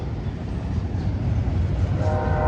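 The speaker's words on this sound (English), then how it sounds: "Train is westbound on main track number 2." Westbound freight train on main track 2 at Sullivan's Curve in Cajon Pass, a loud, close continuous rumble of wheels and engines with a horn note coming in toward the end.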